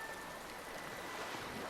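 Rushing water from a waterfall in the video game Chrono Odyssey, a steady broadband roar that holds even and unbroken throughout, with no voices over it.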